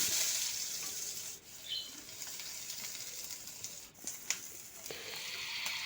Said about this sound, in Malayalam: ഒരു പാൻ സ്റ്റവിൽ വെച്ച് അതിലേക്ക് കടുക് കുറച്ച് സവാള കറിവേപ്പില എന്നിവ വഴറ്റിയെടുക്കണം